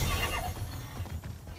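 A metallic horse in the video game Immortals Fenyx Rising gives a short, loud neigh and whinny close up, trailing off within under two seconds.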